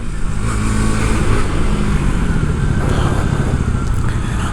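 A KTM Duke 160 motorcycle engine runs loud and close with a steady, throaty drone and a slight rise in revs, heard alone without talk.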